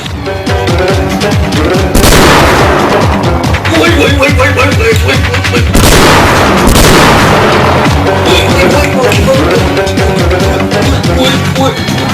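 Two loud, sharp gunshots ring out about four seconds apart, cutting through a dense, continuous layer of background sound.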